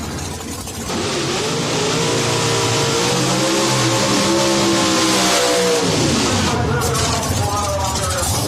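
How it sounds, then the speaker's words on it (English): A nitrous-powered drag racing car spins its rear tires through the water box in a burnout, a loud, sustained engine roar with rising and falling revs that holds for several seconds, with a voice talking over it. "Burnout complete."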